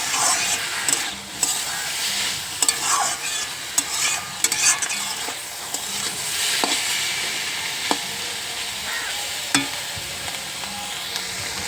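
Mushrooms with salt and turmeric fry in a pan, giving a continuous loud sizzle under repeated stirring scrapes and occasional sharp utensil taps, close up and without talk.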